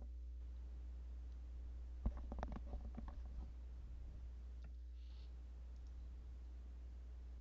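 A brief, faint burst of computer keyboard typing, a quick cluster of light clicks over a steady electrical hum during an online tabletop role-playing game session.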